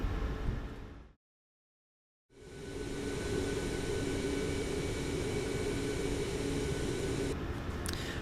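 A Boeing 737 MAX in MSFS 2024 rolls toward runway 27 at Liverpool with its jet engines at idle thrust, giving a steady, broad whine and roar that is briefly cut out before resuming evenly.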